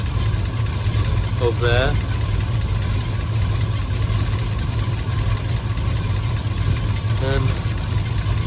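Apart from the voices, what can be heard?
Triumph Stag engine idling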